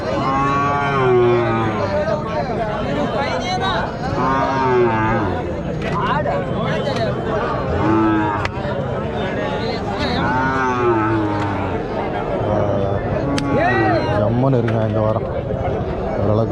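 Cows and small calves moo repeatedly at a native cattle market, with overlapping loud and drawn-out calls throughout and someone talking over them amid crowd noise.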